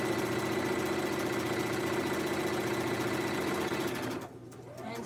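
A sewing machine stitches fusible interfacing onto an orange peel appliqué quilt block, running at a steady, continuous buzz throughout and stopping abruptly near the end.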